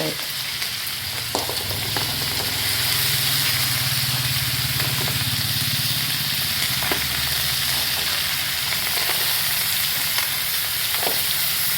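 Small crabs frying in butter in a pan, a steady, bright sizzle that swells after a couple of seconds, with occasional light clicks and taps over the continuous hiss.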